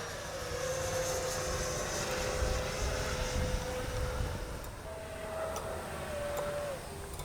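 Steady whine of a Freewing Red Hawk T1 70mm electric ducted-fan RC jet flying at half throttle, a continuous tone from a distance that shifts in pitch partway through.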